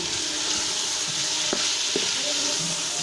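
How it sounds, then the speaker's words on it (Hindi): Chicken sizzles and fries in a pan with garlic, ginger and garam masala while being stirred, a steady close hiss with a couple of brief scraping stir sounds, and no talking. "साथ ही हम चिकन को भूनते रहेंगे और इसमें गरम मसाला ऐड करेंगे"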